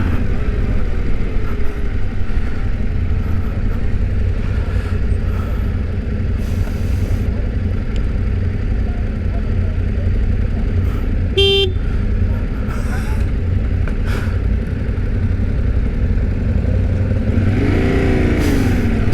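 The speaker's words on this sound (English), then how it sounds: "So I'm riding a Tenere T7." Yamaha Tenere T7 motorcycle on the road, a steady engine drone with wind rush from the rider's position, a brief horn toot from traffic partway through.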